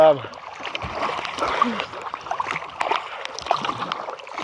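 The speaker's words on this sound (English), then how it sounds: "And the waves are all right now." Waves splash and slosh around a kayak on the River Shannon a couple of hundred metres from shore, a steady, busy wash of water with wind noise running throughout.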